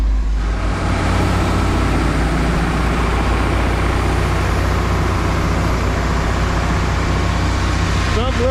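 A dump truck's engine idles during a corn harvest, heard from inside the cab as a steady, loud low rumble that continues unbroken throughout.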